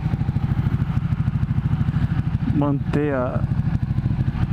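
Ducati 1199 Panigale motorcycle engine idling with a steady low pulsing rumble, close and loud, while someone speaks briefly over it.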